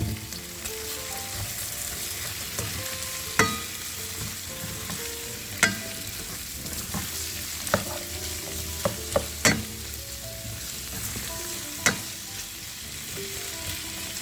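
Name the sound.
sweet peppers sizzling while stir-frying chicken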